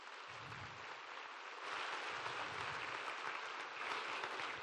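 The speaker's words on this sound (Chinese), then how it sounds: "我们真的需要给头一批的人才一个掌声" Applause from an audience at a leadership training meeting, a soft steady patter of many hands clapping that swells slightly partway through and stays fairly distant and faint.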